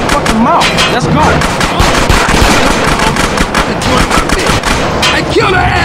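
Automatic gunfire crackles nonstop through a drive-by shootout in GTA San Andreas, dense bursts layered over engine and street noise, with voices shouting over the loud chaos.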